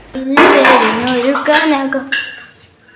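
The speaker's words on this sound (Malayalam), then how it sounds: "കുറച്ച് പാത്രങ്ങളൊക്കെ കഴുകി വെക്കാനുണ്ടായിരുന്നേ അതെല്ലാം കഴുകി വെച്ച്" Dishes clatter and clink as they are washed, with a voice humming a tune over the kitchen sounds, close and fairly loud.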